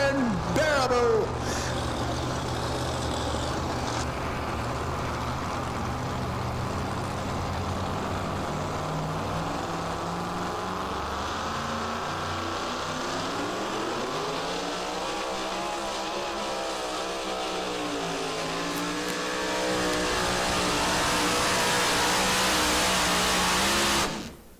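Pulling trucks at a truck pull event roar loudly and continuously for over twenty seconds, engines revving and straining with rising and falling pitch, the sound close and dominant, with faint crowd or announcer voices beneath.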